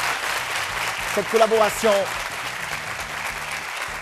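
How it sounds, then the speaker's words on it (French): Audience applause at a French-language youth television show recording, steady clapping from the studio crowd running under a presenter's brief speech throughout. "Public, je souhaite qu'on applaudisse très fort, très fort."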